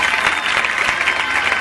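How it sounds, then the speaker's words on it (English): An audience claps together in a steady, dense wash of applause that holds at an even, fairly loud level throughout, with no voices standing out. "now clap for yourselves"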